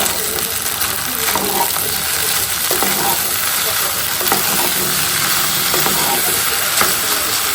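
Sauce goes into pasta frying in a kitchen pan, giving a loud, continuous sizzle and hiss. Faint clinks of stirring come and go throughout, heard up close.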